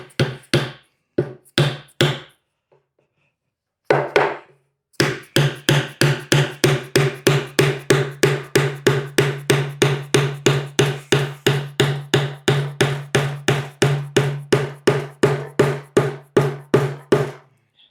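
Steady hammer blows drive a piece into a wooden workbench with breadboard ends: a few scattered strikes and a pause, then a long, regular run of sharp, close knocks that speed up slightly toward the end.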